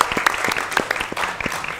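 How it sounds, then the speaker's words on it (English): Conference audience applause, a short burst of close, crisp individual claps from a modest group, continuing unbroken for about two seconds. "Round of applause, guys."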